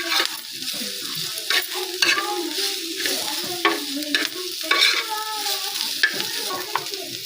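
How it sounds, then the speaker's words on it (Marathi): Green chillies sizzle and fry steadily in a pan for a spicy chilli fry, with repeated scraping stirs of a spoon cutting through the continuous hiss. "तर हे अशा फ्राय झाल्यात मिरच्या समजा"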